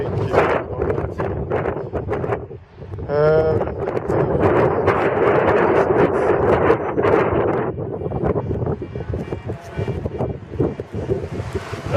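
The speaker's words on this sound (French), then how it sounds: "il y a énormément de vent" Strong wind roars against the microphone, a loud, continuous rumbling buffet with gusts that rise and fall throughout.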